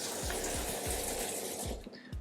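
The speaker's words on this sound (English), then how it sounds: "let's put a little bit more water in the Grainfather" Water pours into a Grainfather G40 brewing system, a constant rushing splash with repeated gurgling dips, close and fairly loud throughout.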